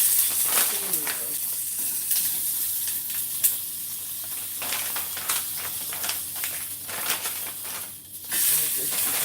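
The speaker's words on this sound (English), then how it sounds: "In a very, very hot pan. I'm using a very small one. That's also because I'm going to steam them." Food sizzles in a very small, very hot pan, a loud continuous hiss with bursts of crackling and steam. A person talks over it at times.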